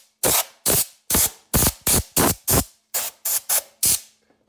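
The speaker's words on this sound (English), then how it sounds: "We'll go ahead and take some compressed air" Compressed air blasts clean loose gunk from the fill port of a 1949 Farmall Cub tractor: about eleven short, loud, evenly spaced bursts of hissing air, close up, with no talk.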